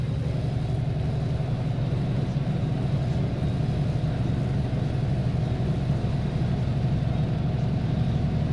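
Simulated GT3 race car engines fire up in a racing game at Zolder, a dense, steady low rumble of several engines idling together, loud and continuous with no talk.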